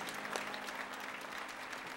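Congregation applause in a church for a pastor retiring after nearly 50 years, faint and distant steady clapping, low in level throughout.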